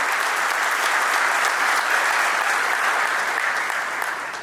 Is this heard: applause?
yes